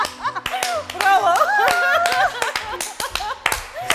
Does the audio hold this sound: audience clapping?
yes